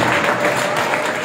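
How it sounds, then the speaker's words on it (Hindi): Audience at an ustad-shagird ceremony gives a dense, loud, continuous wash of applause, many hands clapping together without a break. "तालियां जरूर मार दें"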